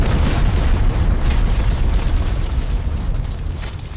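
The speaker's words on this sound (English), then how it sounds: "a simple explosion in the street" An explosion in a street, a loud sustained roaring blast with deep rumble that stays heavy throughout and slowly tails off slightly, no voices.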